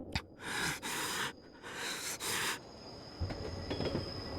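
Train on railway tracks in the visual novel game Chaos;Child, with loud bursts of hissing wheel noise and squeal, then a quieter rolling rumble and faint clacking.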